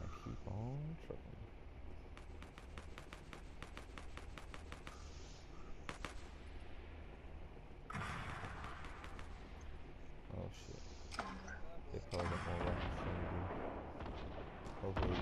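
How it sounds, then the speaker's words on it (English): Gunfire in the video game Fortnite: bursts of sharp shots crack out in rapid clusters, some distant and some closer, with sustained battle noise in between and a louder volley near the end. "They're getting sniped at."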